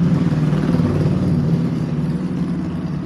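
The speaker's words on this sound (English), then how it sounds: "the motorcycle riders, the people with the loud mufflers only come out now" Motorcycles with loud mufflers pass nearby, a steady, heavy low rumble of engines that stays fairly loud throughout, with no talking.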